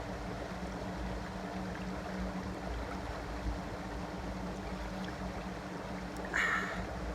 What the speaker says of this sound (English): See, that's water.